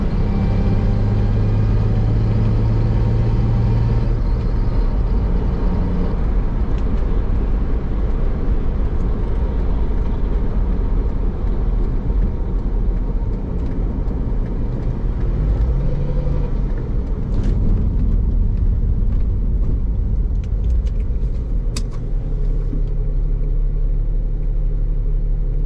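A Mustang's engine idles with a deep, continuous low rumble and vibration, steady and close throughout, with a few faint clicks and rattles toward the end.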